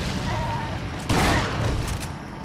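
A single heavy shotgun blast from Resident Evil 4 booms near the middle of a noisy game scene, a loud broadband crack that fades quickly.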